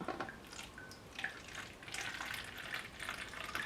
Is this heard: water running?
yes